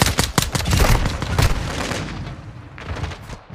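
A P890 pistol fires in Call of Duty MW2 Season 5: a rapid cluster of loud, close shots in the first second and a half, trailing into a fading rumbling echo.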